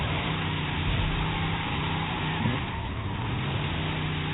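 A turbocharged 6.2 liter engine in the Forza Horizon 5 racing game drones steadily at a held pitch, fairly loud and continuous, with a slight swell midway.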